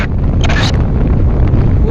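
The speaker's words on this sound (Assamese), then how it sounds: "বতাহটো মানে সাংঘাতিক বতাহ" Loud, constant storm wind in Australia batters the microphone, with a faint voice briefly audible beneath the gusts.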